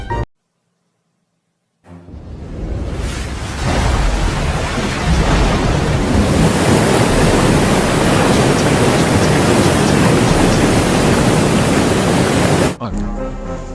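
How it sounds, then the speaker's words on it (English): Rushing flood water from a burst dam roars in after a short silence. It is a loud, dense, continuous wash that builds over a few seconds, then holds steady before cutting off abruptly. "What's with all this water noise?"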